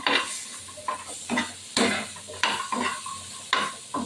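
Fish fries in a pan on a home stove, with a steady sizzle broken by sharp, repeated clacks and scrapes of a spatula stirring against the metal, close and fairly loud.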